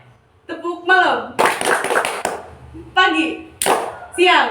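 Classroom clapping chant with sharp bursts of hand claps in a steady rhythm, alternating with children's chanted voices calling out the words close and loud.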